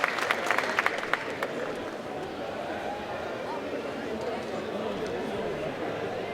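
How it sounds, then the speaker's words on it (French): An audience at a cosplay contest awards ceremony claps and cheers, a dense burst of applause at the start settling into a steady crowd murmur under a voice. "On l'applaudit bien fort s'il vous plaît"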